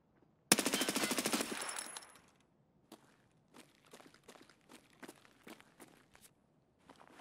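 A Vel rifle fires in Escape From Tarkov as a close, rapid automatic burst lasting over a second, followed by a run of quieter, evenly spaced thuds and steps.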